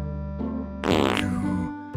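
Cartoon fart sound effect in a Korean children's folktale about a farting bride: a long, loud, bubbly blast swelling after a brief rise, then trailing off, over a music bed with no talking.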